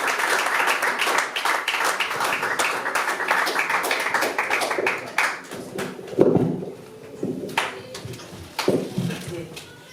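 Church congregation at a French-language Sunday service claps and cheers, rapid dense applause that thins and breaks into scattered claps, with a voice speaking over part of it.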